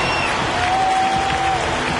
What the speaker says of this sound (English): Alex getting a standing ovation